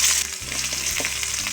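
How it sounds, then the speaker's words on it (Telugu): Sliced onions frying in hot oil in a pan with crushed garlic and tempering spices, a steady loud sizzle with light stirring scrapes, no voices. "ఈ ఆనియన్ అంతా బాగా కలర్ వచ్చేంత వరకు కొంచెం సేపు ఫ్రై చేసుకోవాలి"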